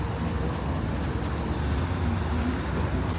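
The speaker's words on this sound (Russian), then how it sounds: "Бывают пробки, бывают свободные улицы, но машин очень много" Dense city street traffic in Batumi in peak summer season, many cars passing, with a steady broadband roar of engines and tires close by, continuous and without pauses.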